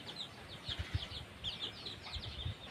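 A hen clucks softly in short repeated bursts, quiet and close, with faint background noise between the calls.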